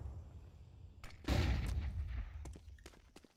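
Gunfire from an M4 rifle in the video game Counter-Strike, a heavy burst of booming shots followed by a few sharp scattered cracks, fairly faint with a low rumbling tail.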